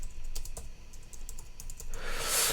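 Rapid typing on a computer keyboard, steady close key clicks in quick bursts with a brighter clatter near the end, no voice.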